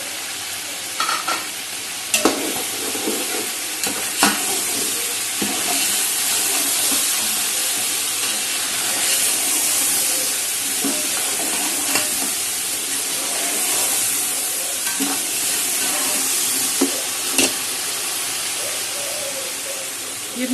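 Browned chicken sizzling and frying in a pot with tomatoes, ginger, garlic and green chillies for chicken pulao, a steady loud hiss with occasional stirring clinks and pops throughout.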